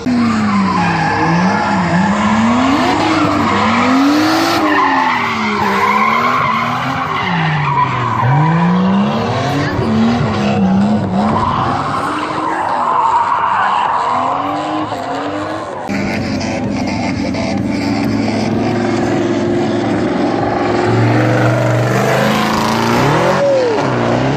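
A 600 hp LS-swapped Nissan 240 drifts with a pro driver, heard from inside the car. Its engine surges up and down in repeated revving swoops under continuous loud tire squeal for over twenty seconds.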